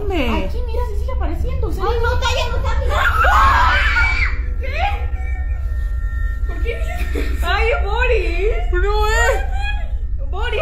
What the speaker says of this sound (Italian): Una di loro se ne accorge e non può far altro che urlare terrorizzata dalla paura